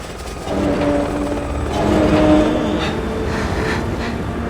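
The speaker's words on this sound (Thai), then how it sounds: "เป็นเหมือนเฮลิคอปเตอร์ยิงกระสุนอยู่ข้างนอกอะ่ะ แบบเฮลิคอปเตอร์ราตะเวนอะ่ะ" A patrolling helicopter in the video game Resident Evil 6 gives off a steady, loud mechanical rotor drone with a low rumble and faint tonal hum, continuous throughout.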